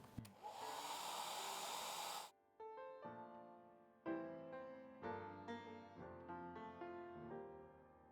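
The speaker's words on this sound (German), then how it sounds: "Immer mal wieder zwischendurch föhnen, damit wir dann eine neue Lasur drüber legen können." A hair dryer blows steadily on wet watercolour paint for about two seconds, then cuts off sharply. Soft piano-like tones follow in its place.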